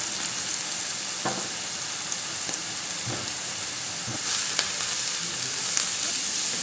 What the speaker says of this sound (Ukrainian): І смажимо до готовності нашу засмажку